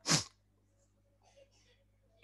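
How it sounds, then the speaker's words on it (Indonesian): One sharp sneeze bursts out close to the microphone during a physics lesson on direct current, followed by quiet room tone and a few soft faint sounds. "Bersin-bersin terus ya."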